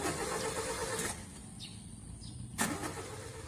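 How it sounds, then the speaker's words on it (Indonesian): Engine of a broken-down car, a steady mid-pitched rumble with brief bursts of louder noise and a faint bird call in the background. "nah itu ada mobil mogok"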